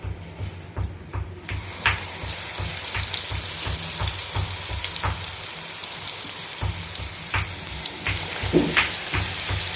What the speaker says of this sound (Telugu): ఇప్పుడు నూనె సిమ్లో ఉంచుకోవాలి ముక్కలన్నీ ఎర్రగా వేగిపోయాయి